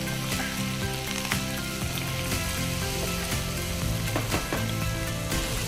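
Onions frying in a pan for aloo palak sabzi, a steady dense sizzle running loud and continuous throughout, with occasional scrapes and light clatter of stirring.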